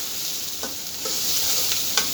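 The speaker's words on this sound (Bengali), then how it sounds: "পেঁয়াজটা ভালো করে ভেজে নেব" Chopped onions fry in hot oil for an egg curry, giving a steady broadband sizzle with a few soft utensil taps and stirring scrapes, close and continuous with no talking.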